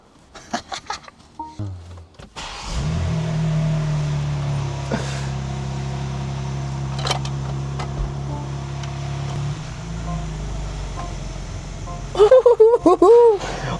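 A restored, previously burnt-out BMW M4 Competition starts with a low steady engine hum that holds for several seconds before cutting out, preceded by clunks and knocks nearby, with a voice briefly heard at the end.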